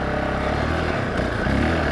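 A 2019 Honda CRF450X dirt bike engine running steadily close by, a continuous buzzing drone that rises slightly toward the end as the throttle opens.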